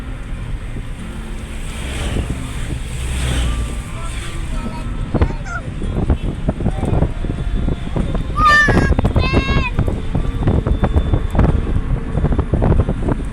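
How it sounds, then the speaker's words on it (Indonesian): Wind buffets the microphone while riding along a road in post-Lebaran return traffic, a loud, continuous rushing gust with faint voices and a few brief high chirps. "Anginnya sepoi-sepoi."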